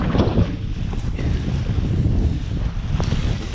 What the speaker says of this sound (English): You can see it's pretty windy.